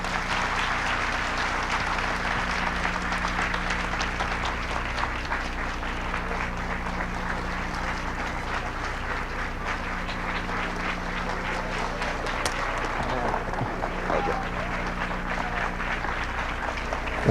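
Conference audience applauding in a large room, sustained even clapping that carries on for a long stretch at moderate level, with no voices standing out.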